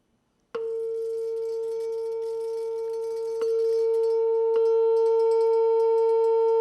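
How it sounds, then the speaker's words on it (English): A pure, sustained tone pitched to a drinking glass's resonant note starts abruptly and holds steady, stepping up in loudness twice as it is driven harder to shatter the glass. "You pick the sound that the glass makes in its fundamental mode, and you sing at it at that pitch really loud."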